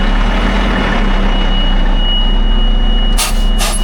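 An LVSR HEMTT military truck rumbles loudly and steadily with a constant heavy engine drone as it begins to drive after gear selection, and two short hissing air bursts follow near the end.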